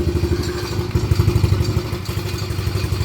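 A quad's small engine with a carburetor that needs cleaning runs steadily close by, its rough, uneven putter pulsing in a quick rhythm with occasional harder knocks.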